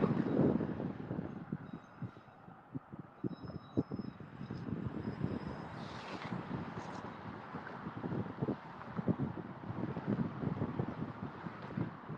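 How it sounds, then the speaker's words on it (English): A distant train rumbles steadily past at the Macmillan rail yard, with low clattering and rushing noise, faint wind buffeting, and a brief high squeal partway through. "I'll show you the end of this train."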